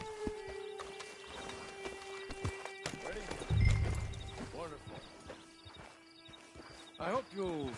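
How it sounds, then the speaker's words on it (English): In Red Dead Redemption 2, a horse clip-clops with rhythmic hoofbeats and gives a short whinny, under speaking voices and occasional clatter. "Then you better get on this horse"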